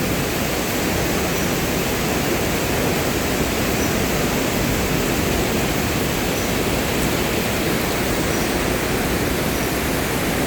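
The Tat Chao Wa waterfall at Phu Khao Khwai roars in a constant dense broadband rush of falling water, loud, steady and unbroken from start to finish with no voices.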